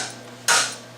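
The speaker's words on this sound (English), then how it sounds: "This here dead blow hammer, and we go" A dead blow hammer lands a single sharp strike on a 6.0 engine water pump, a close, loud thud-clack after a moment of quiet that decays quickly into faint ringing.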